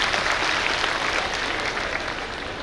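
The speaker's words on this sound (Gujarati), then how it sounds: "એને પણ તાળીઓથી વધાવો મિત્રો" Loud, dense applause from a crowd at a bridge foundation-stone ceremony in Chanch Bandar, greeting the speaker's daughter Reena on stage, a steady wash of many hands clapping close and full throughout.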